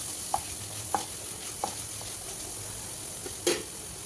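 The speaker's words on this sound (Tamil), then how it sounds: "ஸோ சால்ட் போட்டு கொஞ்சம் நல்லா வதக்கிக்கோங்க" Onions with salt sauté in a pan for a Tamil Nadu tuna fish curry, giving a steady soft sizzle with a few distinct scraping stirs of a spoon against the pan, close and alone.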